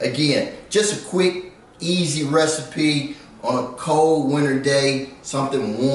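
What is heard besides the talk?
No everyday noise stands out behind the speech.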